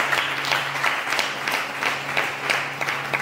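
A church congregation applauds for the Lord, a steady, rhythmic wash of clapping that pulses evenly throughout over a low background hum.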